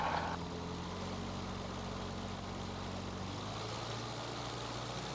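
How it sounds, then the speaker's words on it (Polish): A light propeller aircraft's engine drones steadily as the plane taxis, a continuous low hum with a slight shift partway through and no talk over it. "Włączamy stropę i rozpoczynamy kołowanie"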